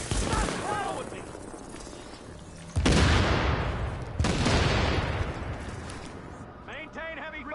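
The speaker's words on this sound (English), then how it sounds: "Maintain heavy fire!" Heavy gunfire in Tom Clancy's The Division video game, with two loud bursts of shots and explosions standing out among ongoing battle noise, and voices calling out in the background.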